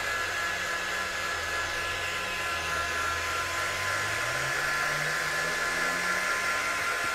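A hair dryer blowing steadily on a paper craft project, a loud continuous whooshing roar with a motor hum that shifts slightly in pitch partway through, heard alone.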